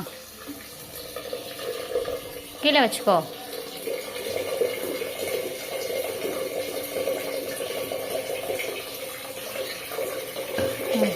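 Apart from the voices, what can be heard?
water filling a pressure cooker from a tap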